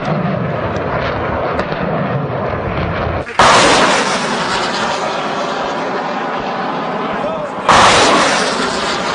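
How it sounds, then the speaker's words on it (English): Gunfire and bomb blasts during fighting between the FARDC army and M23 rebels in the Democratic Republic of Congo, a dense roar with two sudden loud bursts, heavy and sustained, with voices faintly underneath. "Le bruit des coups de feu et des bombes, on le ressent au plus profond de nous-mêmes."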